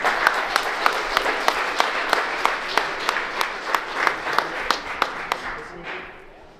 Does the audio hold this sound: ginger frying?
no